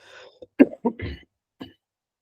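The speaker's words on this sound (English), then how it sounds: "Sorry for this cough." A person coughs several times in short bursts with brief pauses, close to the microphone, starting with a rough throat-clearing sound.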